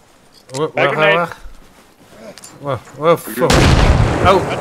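A grenade goes off in the military shooter game Arma Reforger: voices talk first, then a loud, sustained blast of rumbling noise fills the last second and a half.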